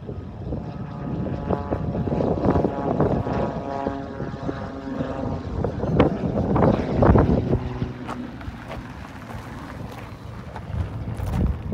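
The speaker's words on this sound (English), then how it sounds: "You can see your plane taking off." A propeller airplane takes off from Ogle Airport, beside the East Coast bypass road, its broad engine drone holding steady and fairly loud throughout, with gusts of wind buffeting the microphone.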